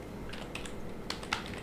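Someone types on a computer keyboard in a short, quiet burst of light key taps at an uneven rhythm, with two slightly sharper clicks near the end.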